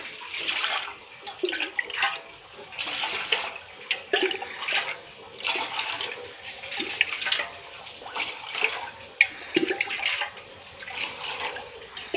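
Water gushes from a tap into a vessel for tea in a home kitchen, a continuous splashing rush with uneven surges and clinks, fairly close and without talk.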